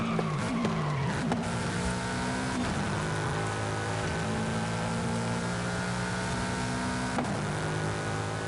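Car engine droning steadily in Forza Horizon 5 during a PvP race, with tires squealing and skidding at the start and again near the end, loud and continuous with no talk.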